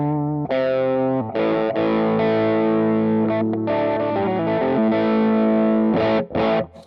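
An electric guitar run through a Steve Williams treble boost pedal plays sustained, overdriven chords and notes, loud and continuous with a few short breaks, with no talking.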